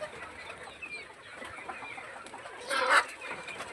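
Chickens and roosters cluck on a farm, a low steady murmur of birds with a louder burst of clucking near the end.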